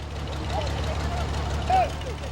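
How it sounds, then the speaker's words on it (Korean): Loud boat motor running on the quiet upper reaches of the Niger River, a steady low droning hum that holds evenly throughout. "시끄러운 모터 소리가 주위를 깨운다."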